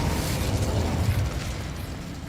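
Spell blasts of Confringo and Incendio cast in the Hogwarts Legacy video game, a dense rumbling, booming burst that stays loud and steady before easing off slightly, with no talk.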